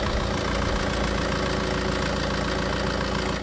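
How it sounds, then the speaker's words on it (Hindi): Ten-year-old Tata Safari 2.2 VTT Dicor diesel engine idling after start, a loud, steady close-up rumble with a faint knocking clatter throughout. "अभी गाड़ी अपन स्टार्ट करते हैं, क्या बात है, एक नंबर साउंड आता है भाई जब गाड़ी स्टार्ट होती है"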